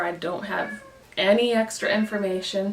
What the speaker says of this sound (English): Apologies in advance if you hear a cat meowing in the background.